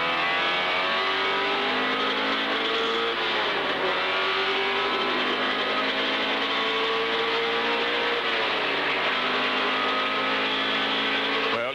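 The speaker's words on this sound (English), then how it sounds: "And Peter thundering down through the S's." A racing car at the 1979 Bathurst race in the rain sounds a loud, continuous engine roar that rises and falls in pitch as it drives past, with the engine note shifting through the S-bends.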